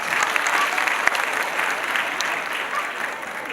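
Audience applause at a school annual day, a dense burst of many hands clapping steadily in a hall, fairly loud and gradually easing toward the end.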